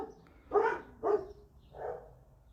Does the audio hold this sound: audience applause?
no